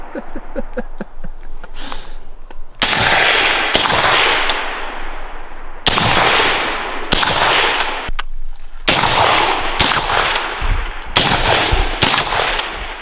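Suppressed gunfire through a Huxwrx Ventum suppressor, heard as a close series of about eight loud, sharp reports at uneven intervals, each with a short ringing tail and no talk.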